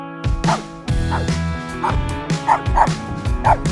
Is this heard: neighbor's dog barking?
yes